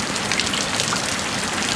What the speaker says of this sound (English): And for it to rain this hard for this long